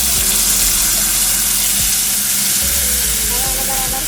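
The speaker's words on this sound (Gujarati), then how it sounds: "હવે આમાં આપણે જે મસાલાની પેસ્ટ બનાવી હતી લાલ મરચું એ નાખી દઈશું." Red chili masala paste hitting hot oil for a Gujarati potato curry, producing a loud, continuous close-up sizzle with faint scraping of stirring and no voices.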